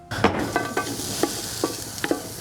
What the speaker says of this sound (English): we'll just give it a quick stir